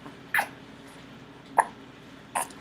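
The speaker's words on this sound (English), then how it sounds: "She got hiccups." A baby hiccups three times, each a short, sharp squeak spaced about a second apart over quiet background hiss.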